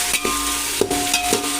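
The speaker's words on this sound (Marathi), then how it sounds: "तर तुम्ही बघू शकताय आपला हा कांदा टोमॅटो छान असा तेलात भाजला गेला आहे" Onion and tomato fry in oil in a large pot while being cooked down for chicken dum biryani. A steady close sizzling hiss runs throughout, with a few scraping stirs of the spoon.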